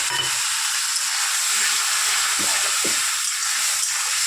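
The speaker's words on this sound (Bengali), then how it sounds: "ভালো করে কষিয়ে নেবো" Fried potatoes and spices sautéing in a pan give a loud, continuous hissing sizzle up close, with a few soft scraping stirs along the bottom and no voices.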